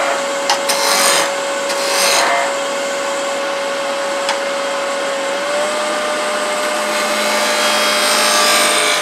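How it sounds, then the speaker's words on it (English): A wooden tenon being turned and rounded on a woodturning lathe, with a steady motor whine and a continuous rough scraping of the tool on the spinning wood, swelling in short rasping bursts near the start. "I'm going to go ahead and turn that tenon now and then finish rounding it"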